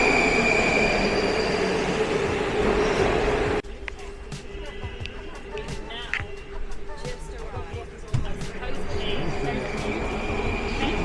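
A metro train passes through an ornate Moscow underground station, a loud steady rumble and rush that drops abruptly partway, leaving a softer rolling clatter with occasional wheel squeal and faint voices nearby.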